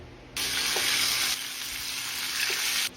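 Chicken sizzling in cooking oil in a pan, a loud, bright continuous frying hiss that starts abruptly, stays steady, then eases slightly partway through without any talk over it.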